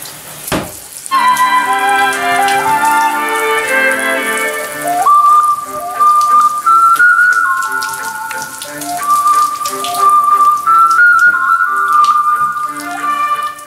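Water splashes over a cheap waterproof mushroom-shaped Bluetooth speaker with a large suction cup on bathroom tiles, a continuous spatter mixed with the speaker's loud tonal melody playing throughout.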